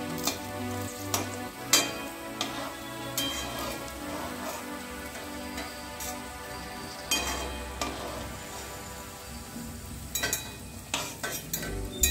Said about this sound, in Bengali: এরপর আমি বাদবাকিগুলো ঠিক একই প্রসেসে আমি ভেজে নিচ্ছি